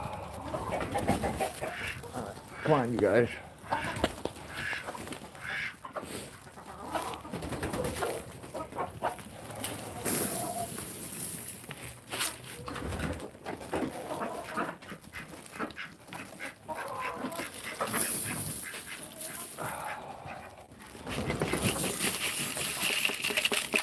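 Chickens and other farm fowl cluck and chatter while being fed scraps and eggshells on a cold day, with a steady busy mix of bird calls close by and a person speaking briefly.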